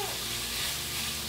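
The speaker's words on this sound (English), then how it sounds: "I suppose the proper term for cooking this lobster is sauté." Chopped spiny lobster pieces sauté in a pan, giving a dense, even sizzle that is close and steady through a very short stretch, with no clear speech.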